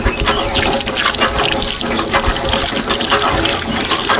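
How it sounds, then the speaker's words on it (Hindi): Water gushes from a tap into a container, a loud, continuous splashing rush that holds steady from start to finish. "ये नल को चलाओ तो पानी भर ले"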